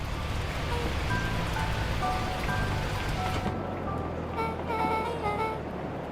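Heavy storm rain from the video game Beacon Pines hisses steadily with soft musical tones over it, then cuts off abruptly about halfway through, leaving the quieter music alone.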